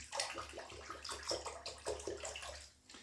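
A razor is rinsed under running water during a wet shave, producing a series of quiet, rhythmic splashing swishes and trickles, close and soft, repeating several times.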